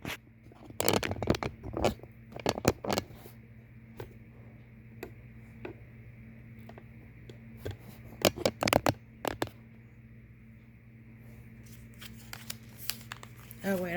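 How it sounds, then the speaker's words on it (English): Tarot cards are handled and shuffled in quick clusters of crisp riffling and slapping, close by, separated by quieter gaps with faint rustling. "I was getting ready to shuffle it one way and the other way"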